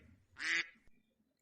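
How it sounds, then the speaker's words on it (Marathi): A single short duck quack, fairly faint and isolated against quiet, lasting about a quarter second. "duck म्हणजे बदक."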